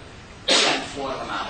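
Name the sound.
sneeze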